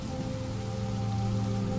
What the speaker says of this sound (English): The rhythmic patter of the rain,